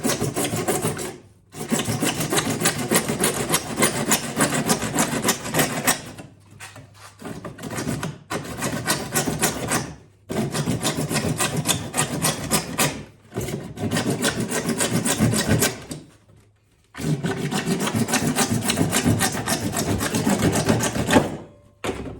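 A hand saw cuts through PVC pipe for a fishing kayak milk crate build, making rapid rasping back-and-forth strokes in several long bursts separated by short pauses.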